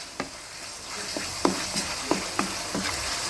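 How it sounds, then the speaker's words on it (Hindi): Onion and tomato sizzling steadily in a pan for bhindi sabzi, a constant close frying hiss broken by several light spatula taps and stirs. "थोड़ा सा प्याज और टमाटर को भून लेंगे हम।"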